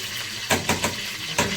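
A spoon stirs a pot of stuffed eggplant cooking in water, with three or four quick scraping strokes over a steady sizzling bubble, close and clear.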